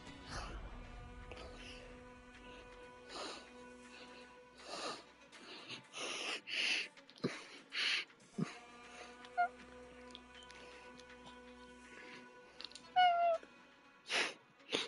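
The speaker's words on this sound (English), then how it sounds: "The fucking tiny meows." A small orange cat gives several tiny, soft meows and snuffling breaths, close by, with scattered quiet knocks and a faint electronic hum in an otherwise quiet room.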